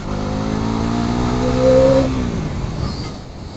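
A Pulsar NS400Z motorcycle's engine hums steadily, then its note drops and fades as the rider brakes hard into a stoppie, all close and loud.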